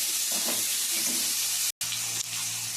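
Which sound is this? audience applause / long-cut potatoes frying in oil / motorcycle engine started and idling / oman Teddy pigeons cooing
long-cut potatoes frying in oil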